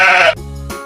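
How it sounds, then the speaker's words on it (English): A sheep gives one short, loud bleat close by, followed by a brief low rumble, with no voices. "Sheep."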